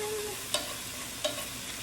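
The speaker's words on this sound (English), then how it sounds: "I'm gonna be a little quiet so you can enjoy the sound of meat sizzling." Beef for teriyaki frying in a hot pan, a steady close sizzle with two brief stirring clatters, no talking.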